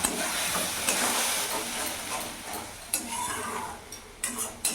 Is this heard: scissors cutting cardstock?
no